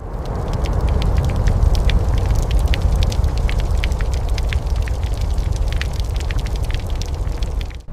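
A huge city fire raging through London's streets in 1666, a loud, constant roar thick with dense crackling and popping, heard alone without voices.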